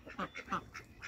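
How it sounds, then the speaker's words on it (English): Farm ducks in a muddy yard quack in a quick run of about five calls, fairly close and clear, with little else around them. "Love my little ducks."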